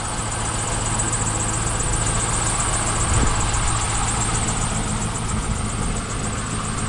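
A 1999 Pontiac SLP Firehawk sits idling after long storage, its engine a steady, even rumble with a faint high whine, close and continuous for the whole stretch without any speech.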